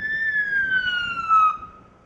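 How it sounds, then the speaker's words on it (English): An ambulance siren wails in a long, slowly falling tone with a steady pitch glide, loud and fairly near, fading out toward the end over faint background noise. "Listen, that's the ambulance."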